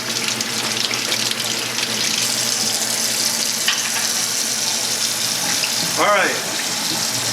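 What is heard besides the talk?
warm water running from a tap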